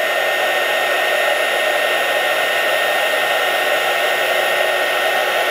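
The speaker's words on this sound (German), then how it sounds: "mit dem Gebläse bearbeite ich einfach jetzt diese Nadel" A FALLER mini hot air blower heating a clogged glue tube needle, a loud steady whooshing fan hiss with a constant motor whine, unbroken and close, alone without talk.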